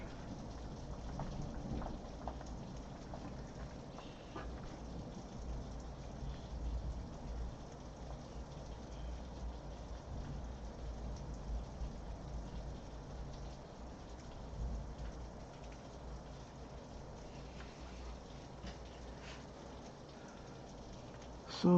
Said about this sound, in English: this is our monsoon season, so that's why I was asking if you can hear the rain from where you're at